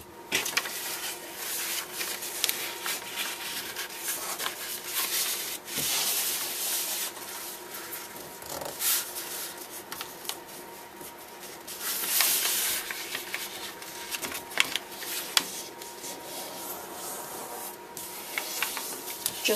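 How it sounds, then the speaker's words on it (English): Paper folded and creased by hand on a line, with a steady close rustling and rubbing that swells into sharper sweeps, continuing with no talk. "take this part again and fold it over here on the line again"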